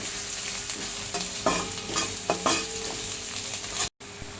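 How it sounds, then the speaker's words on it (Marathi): Vegetables for veg noodles are tossed and sautéed in a hot pan, a constant sizzle with several clanking scrapes of a spatula against the metal, close and loud, with a brief dropout near the end. "ह्या भाज्यांचा क्रंच असाच राहील, 1-2 मिनिटच परतून घ्यायचे आहेत"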